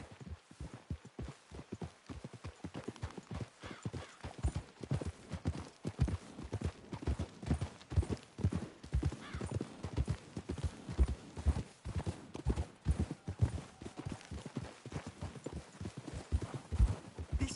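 Horse hooves clip-clopping in the video game Red Dead Redemption 2, a steady rhythmic trot of several horses continuing throughout at moderate, close range without speech.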